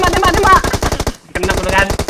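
Automatic weapon fire in PUBG Mobile: a loud, close, rapid stream of shots breaks off briefly, then resumes for another fast burst.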